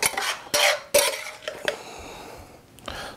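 A Santa Fe sauté of onion and red pepper is spooned out over rice noodles on a plate, with several sharp metal-on-dish clinks and scrapes, then softer scraping, all close and without talk.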